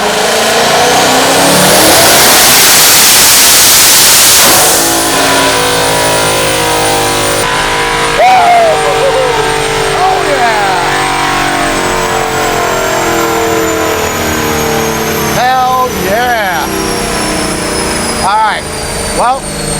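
A high-power tuned car making about 1300 horsepower on 22.8 pounds of boost revs hard on a dyno pull, a loud sustained engine roar climbing in pitch then easing off, with a voice talking over it.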